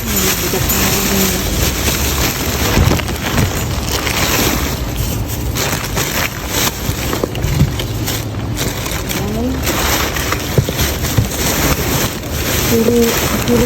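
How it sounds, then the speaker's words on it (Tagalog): Heavy rain pours down outdoors on a street, a dense steady wash of noise that runs the whole time, with scattered faint voices underneath. "Biglang bumuhos ang mga ulan."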